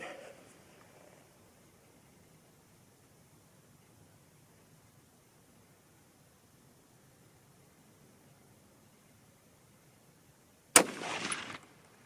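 A 30-06 Springfield rifle fires a single sharp, loud shot near the end, followed by a brief echoing tail after a long stretch of quiet outdoor ambience.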